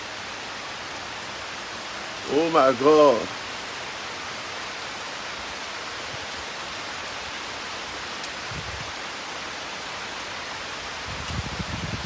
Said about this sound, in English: Oh, but see early morning rain.